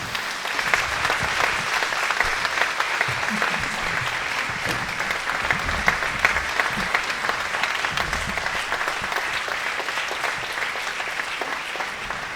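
Audience at a Turkish classical music choir concert in Zürich applauding as the choir conductor comes on stage, steady dense clapping heard at moderate distance, continuous for the whole stretch.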